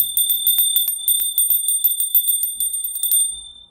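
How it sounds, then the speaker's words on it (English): A small hand bell rung repeatedly for energy clearing, bright metallic rings struck in quick irregular succession for several seconds, close and loud, then letting ring out with a faint rumble beneath. "I'm going to ring the bell"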